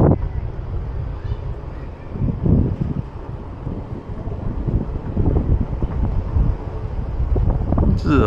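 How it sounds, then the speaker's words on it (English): Steady wind gusts buffet the microphone at an RV resort campground in Nashville, a loud, continuous low rumble that runs through the whole stretch without a break. "It's windy."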